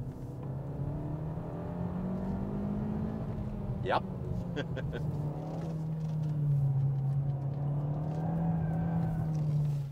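A 2019 Hyundai Veloster Turbo is driven hard on a track, its engine giving a loud, steady low drone that rises and falls slightly in pitch. A brief clicking sound cuts through partway, and a voice speaks one short word.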